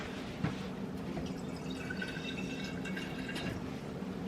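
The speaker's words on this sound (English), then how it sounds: "I'll put a little bit of water in this" Water poured from a tap into a 32-ounce jar of pasta sauce, a steady running trickle with filling tones rising for about four seconds, close and moderately quiet.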